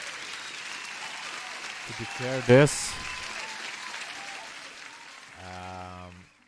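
An applause sound effect plays during a live futures and forex trading stream: a steady wash of crowd clapping runs under a voice, with a short tonal jingle in the middle and a musical sting near the end.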